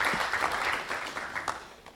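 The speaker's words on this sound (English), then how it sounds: "So we give her a round of applause." Audience applause at a Data Day event on visualizing digital politics: a steady, fairly soft patter of many hands clapping that carries on for the whole stretch without pause.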